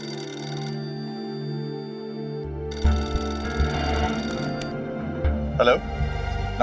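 A telephone rings in a home, its bell tone repeating in steady bursts over background music, with clattering and movement sounds joining partway through.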